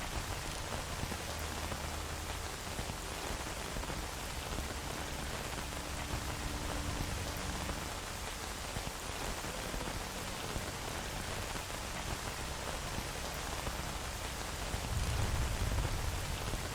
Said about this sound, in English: This rain is horrible.